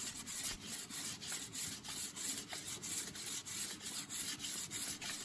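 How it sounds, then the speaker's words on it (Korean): Sandpaper rubs steadily along the stem and roots of a goosefoot wood walking stick, making a close, dry rasping scrape in regular back-and-forth strokes with no voices. "줄기부터 뿌리까지 꼼꼼히 사포질을 해줍니다"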